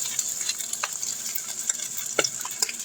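A utensil scrapes stuck potato off a skillet of leftover egg hash, making short irregular scratches and taps over a light background sizzle.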